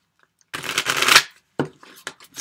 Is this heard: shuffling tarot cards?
yes